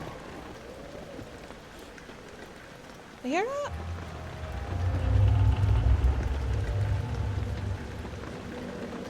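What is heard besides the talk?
rain hitting the window in video game Amnesia: The Dark Descent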